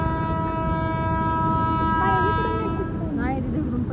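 A train horn sounds long and tonal as a new train arrives on railway tracks, over a steady rumble with brief chirping sounds later.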